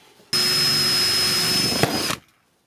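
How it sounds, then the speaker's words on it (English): A power drill bores down through a camper minibus fitting to enlarge a hole for wiring, a loud steady whine lasting about two seconds before stopping abruptly. "I'm going to drill down into this and make a second hole to make it bigger."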